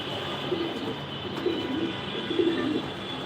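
Racing pigeons coo softly in a loft, a few low murmuring calls rising and falling over a steady background hum.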